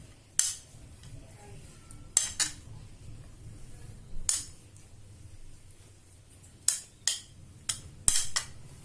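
Vegetables are added to a yogurt sandwich filling in a bowl, giving several sharp clinks of a spoon against the dish spaced irregularly, with faint soft rustling between them in a quiet kitchen.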